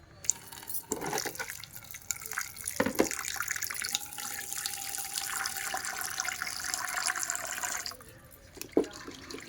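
Dried prawns are rinsed in water to loosen sand. Close splashing and running water from a tap continue for several seconds with drips and sloshes, then stop near the end.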